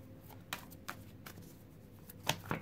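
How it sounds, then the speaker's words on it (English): A deck of tarot cards is shuffled by hand at close range, quiet papery riffles broken by several sharp taps and snaps, with no talking. "I have pre-shuffled, so I'll just get a couple more shuffles in there"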